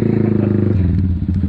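A motorcycle loaded with cargo, including rice, for a charity ride to typhoon victims in San Mateo, Rizal, runs with a steady low engine drone and some clatter, close and fairly loud throughout.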